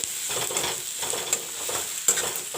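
Crushed ginger and garlic fry with browned onions in a pan for a banana kofta curry, giving a steady close sizzle broken by a few soft scraping stirs, with no voices.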